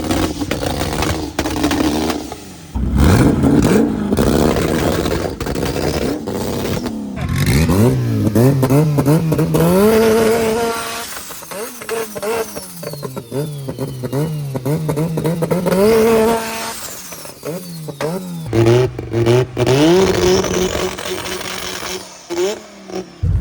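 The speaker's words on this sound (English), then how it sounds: "Yeah, everybody's warming up the cars now." Powerful 1000+ horsepower race cars warm up before a head-to-head event, engines revving in repeated loud bursts that climb and fall, with clattering and idling between revs and people talking nearby.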